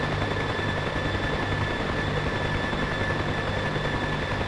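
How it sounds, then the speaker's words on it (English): A helicopter in a flight combat video game escorting an F-16 Viper on an air intercept mission, heard as a steady, continuous rotor drone with a low pulsing throb that holds at an even level throughout, with no voices. "Beautiful copter,"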